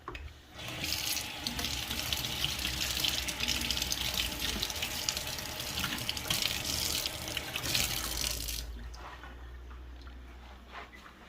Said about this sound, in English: Rinse the lid.